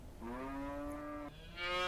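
Emaciated longhorn cattle out in the desert at night, one loud, close drawn-out moo that breaks and shifts pitch partway, followed by a second rising call.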